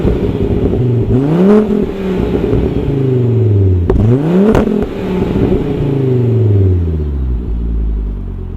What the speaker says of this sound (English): But let's do some quick revs